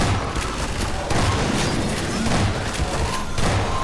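Gunfire in the Half-Life 2 Episode Two video game, a dense run of loud booming shots and thuds spread across the whole stretch, with no talk over it.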